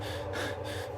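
Fast, heavy breathing rises and falls in quick close gasps, about two breaths in one second, loud and unaccompanied, used as a horror story sound effect.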